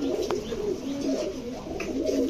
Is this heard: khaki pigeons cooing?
yes